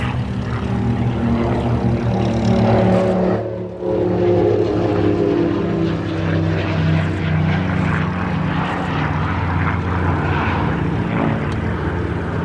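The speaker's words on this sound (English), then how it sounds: "those two aircraft you've just seen taking off, the one closest to us, that was the absolutely brilliant Bronco from the Bronco display team" An OV-10 Bronco display aircraft takes off at an air show. Its propeller engines give a loud, steady droning roar that dips briefly, then holds close and strong, with no voices over it.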